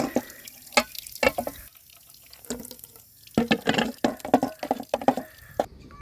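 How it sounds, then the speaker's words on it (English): Water added bit by bit to a whitewash mix for young avocado and mango trees, heard as irregular splashes, trickles and sharp drips separated by quiet gaps, close and moderately loud. "Add water little by little."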